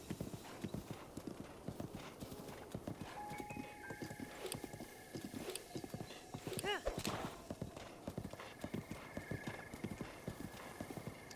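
A horse in Zelda: Breath of the Wild trots along a path with continuous rhythmic hoofbeats and whinnies once midway, while a player talks over it and game music plays in the background.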